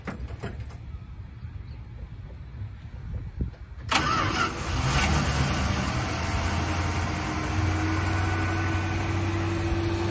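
A carbureted engine on a 1982 Dodge Maxi van cranks and catches after a few quiet seconds, then settles into a steady, fairly quiet idle that runs alone to the end.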